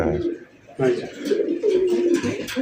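Pigeons coo in a loft where several pairs sit on eggs. The low, rolling coos come in a few phrases, partly under a voice.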